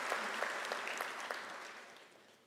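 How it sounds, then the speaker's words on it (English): Audience applause at a University of South Africa autumn graduation ceremony, a broad wash of clapping with a few sharper individual claps, steady at first and then gradually thinning and fading out. "Can we give a round of applause to our sign language interpreter,"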